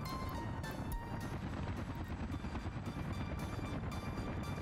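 Mi-10 helicopters in the Soviet city-building game Workers & Resources, a steady, dense rotor and engine drone that runs continuously at moderate level with no talk over it.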